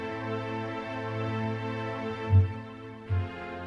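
A synth run through the free Valhalla Supermassive reverb plugin on its default preset, for dungeon synth music: a soft, sustained pad of layered tones with a long washy tail and two brief swells, fairly quiet and without voices.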